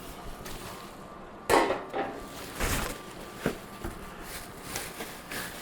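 Metal baking pans from an induction cookware set clank and scrape as they are handled, with a few sharp knocks and rattles over a quiet room hum.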